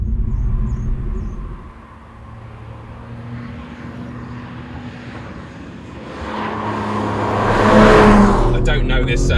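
An Audi RS 4 Competition drives fast around a race track, its engine droning and then rising to a loud rev near the end, while someone talks over it.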